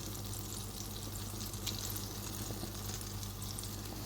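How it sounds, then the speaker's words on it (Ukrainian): Hot sandwiches topped with cheese fry under a lid in a covered pan, giving a steady, dense sizzle that holds evenly for the whole stretch with no talking. "І прикрити кришкою. Хай піджариться під кришкою."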